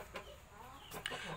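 A Japanese Chu Shamo chicken weighing about 3.5 kilos gives a few brief, soft clucks, faint and close, with little else around.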